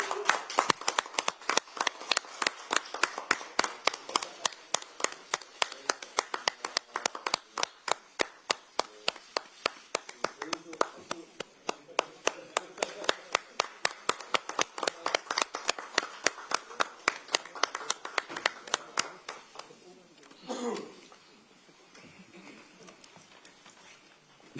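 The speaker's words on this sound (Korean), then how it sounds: "여러분, 하정우 전 청와대 AI 미래기획 수석비서관, 전운수 전 청와대 대변인을 큰 박수로 환영해 주시기 바랍니다." An audience at a Democratic Party recruitment ceremony welcomes new recruits with rhythmic, evenly paced clapping, many sharp claps in unison that run for about twenty seconds and then give way to a brief lull with faint voices.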